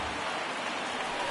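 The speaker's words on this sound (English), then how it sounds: "There is rain." Simulated rain in the baseball video game MLB The Show 19 gives a soft, steady hiss of falling drops, even and fairly faint across the short moment.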